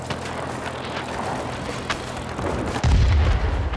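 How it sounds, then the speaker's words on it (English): In the World of Warplanes video game, a military base fires on its own side's base, giving muffled gunfire and booms over a droning engine background, with a heavier thump near the end. "The military base is firing at our own base."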